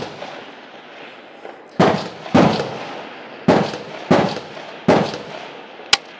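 Rifle shots ring out at a 300 m range where a Swiss Martini Jagdstutzer is being fired: about six sharp, loud reports at irregular intervals, each trailing off in a short echoing decay, with a smaller crack at the end.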